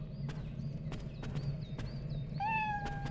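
A cat meows several times in the video game Lost Odyssey, short repeated mews over steady background game music, the last call longer and more drawn out.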